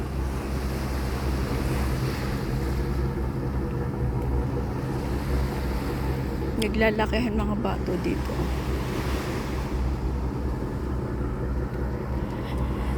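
Sea waves wash against a shore lined with large placed boulders, a steady broad rush with wind buffeting the microphone, while a person briefly talks partway through.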